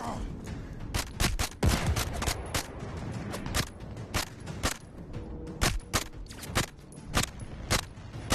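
Gunfire in the shooter game Zero Caliber, with rapid bursts and single sharp shots cracking in uneven rhythm over a constant background of game noise.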